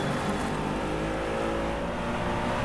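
A race car engine roars at full throttle in the DriveClub racing game, a continuous loud dense drone that holds steady without letup.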